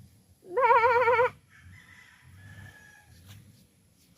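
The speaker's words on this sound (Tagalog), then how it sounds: "There's chickens." A rooster crows once, loud and close, followed by softer clucking from chickens outdoors, with a faint low murmur underneath.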